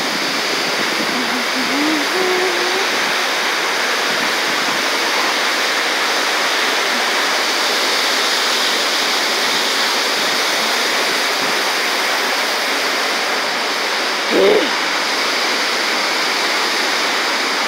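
Steady, loud rushing of flowing water in a water garden fills the whole stretch without pause, with a brief thump near the end.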